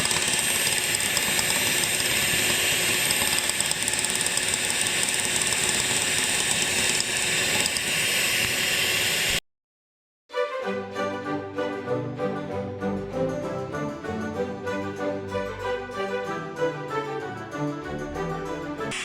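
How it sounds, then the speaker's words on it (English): Dalgona coffee with sugar being whipped until foamy, a steady, even mechanical whirring that runs unbroken for about nine seconds, then stops and gives way to background music. "Keep mixing it until the texture becomes really soft and"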